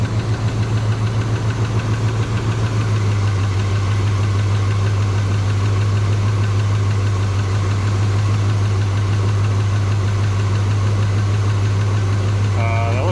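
A 350 small block Chevy V8 runs steadily with an LS alternator fitted, a loud continuous low engine drone with a slight change in tone a few seconds in, close up and alone.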